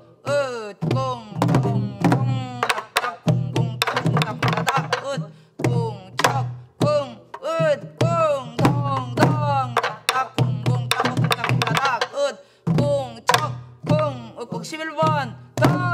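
Korean buk barrel drum struck in pansori gosu accompaniment rhythm, its steady thunking strokes nearly continuous through the passage, heard alongside a voice chanting the drum syllables aloud in time.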